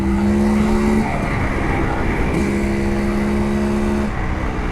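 Jawa single-cylinder motorcycle exhaust note while accelerating, a loud, steady engine drone with a strong low tone that shifts pitch around one and four seconds as the revs change, heard up close.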